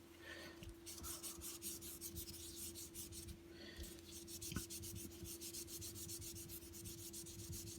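Steady, close rubbing of 3000 grit sandpaper over burl wood and metal on a cleaned-up Coke bottle piece, a continuous fine rasping with a faint steady hum beneath and one brief tap midway.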